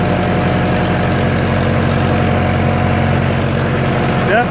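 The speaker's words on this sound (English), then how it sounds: "All right, here we go again. Crank her over." A 1966 John Deere tractor engine idles steadily and loudly throughout, its low, even chugging rhythm close by with no speech over it.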